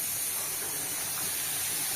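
Cabbage for a vegetarian dish steams in a covered pot, giving a soft, steady hiss that holds evenly throughout, quiet and close, with no voices.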